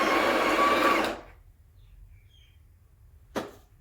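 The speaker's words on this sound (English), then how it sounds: "Only spin this dial when the grinder is spinning." Built-in coffee grinder of a Breville Barista Express BES870 spinning with a loud, steady whirring grind, close up, then cutting off abruptly into quiet, followed by one short clack.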